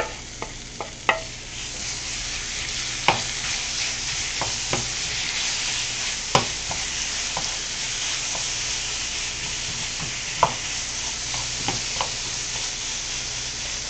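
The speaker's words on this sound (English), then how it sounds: "yep, there's that sizzle." Food sizzles steadily in a hot pan during stir-frying, a constant bright hiss broken by sharp pops and occasional clinks of a utensil, with no talking.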